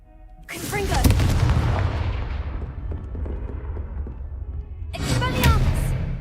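Confringo, a blasting spell cast in the Hogwarts Legacy video game: a loud booming blast with a crackling, fizzing tail that fades over several seconds, then a second explosive burst near the end.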